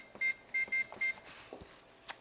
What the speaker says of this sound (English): Let me do a timer.